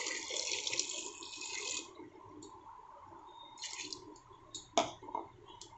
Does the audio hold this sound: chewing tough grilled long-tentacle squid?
no